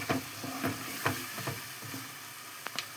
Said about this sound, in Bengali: একটু ভাজা হয়ে যাক